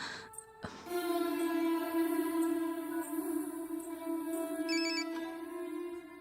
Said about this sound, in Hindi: ये कृष्णा फोन क्यों नहीं उठा रहा?